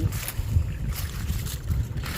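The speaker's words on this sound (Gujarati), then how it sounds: "આવી રીતનું પાણી હાલે છે" Irrigation water runs along a furrow in a cumin field, making a continuous low rushing and gurgling wash with rumbly, wind-buffeted noise close to the microphone.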